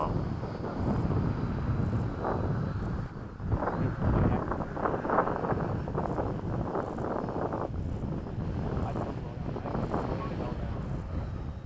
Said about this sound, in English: The wind is perfect right now, so may as well take an advantage.